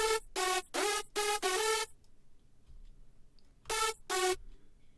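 A hardstyle lead synth from FL Studio 20, run through a multiband compressor, hits four bright, buzzy staccato notes, falls quiet for nearly two seconds, then plays two more, loud and alone.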